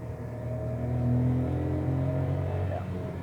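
A Volkswagen Ameo 1-litre engine hums steadily at 6,000 RPM, a sustained droning tone that rises slightly and holds, heard from inside the car.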